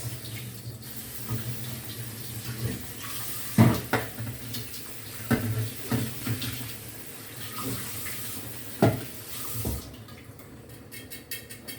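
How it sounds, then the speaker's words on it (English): A cooking pot is rinsed under a running kitchen tap, with steady flowing water close by, interrupted by several sharp knocks of the pot against the sink, before the flow stops near the end. "Just got to wash it. Rinse it out."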